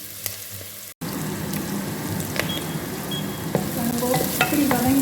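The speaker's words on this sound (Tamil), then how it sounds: "இப்போ இதுக்கு தேவையான பெருஞ்சீரகம், கொஞ்சமாக வெந்தயம், நல்லா வதங்கி வரணும்." Fennel seeds and a little fenugreek sizzle and sauté in hot oil with steady frying crackle and occasional stirring scrapes, loud and close, building slightly toward the end.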